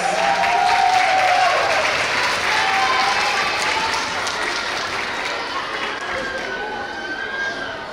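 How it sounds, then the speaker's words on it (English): A school crowd gives a loud, sustained round of applause for kindergarten students of the month, dense clapping that rolls on for several seconds and eases slightly, mixed with cheering and chatter. "Let's give them a round of applause."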